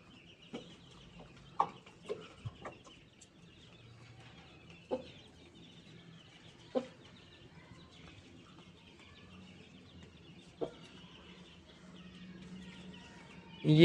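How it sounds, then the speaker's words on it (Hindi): Hens pecking at food give scattered soft clucks and short calls, a few sharper ones standing out at irregular intervals over quiet, close background with no talking. "ये जो ये ब्लैक कलर वाली मुर्गी है"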